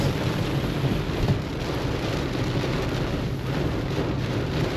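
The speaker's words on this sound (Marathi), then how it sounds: "पाऊस बघा किती जोरात पडतोय" Heavy rain in Kerala pours down steadily in a dense, loud wash with low rumbling underneath, unbroken throughout and with no voices.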